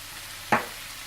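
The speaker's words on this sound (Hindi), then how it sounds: "और इसे थोड़ा सा भून लें" Turmeric powder, salt, crushed red chili and garam masala are fried in a pan, giving a steady faint sizzle with one brief louder scrape of stirring in the middle.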